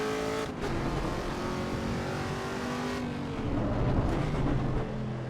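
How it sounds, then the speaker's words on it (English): Simulated V8 engine of a Chevrolet Camaro ZL1 in the racing game Assetto Corsa EVO, a steady loud rumbling drone with shifts in pitch as the car accelerates, heard alone without talk. "this feels like a good old-fashioned V8 making all the noise."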